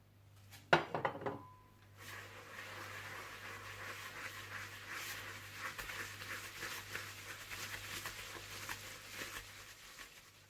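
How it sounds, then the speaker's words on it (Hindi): Butter and sugar beaten together in a bowl for a semolina syrup cake, opening with a few sharp clinks against the bowl, then a steady, fairly quiet scraping and whisking that continues evenly. "और इसमें आप डाल दें चीनी और इसे अच्छी तरह से बीट कर लें।"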